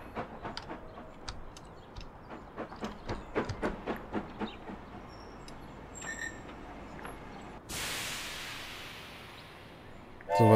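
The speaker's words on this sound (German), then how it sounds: "Jetzt kommt wieder ein Zug" A train arriving in the city-building video game Kapital: Sparks of Revolution, with rhythmic clickety-clack wheel beats quickening and then a long hissing release, under a faint ambient bed with occasional bird chirps.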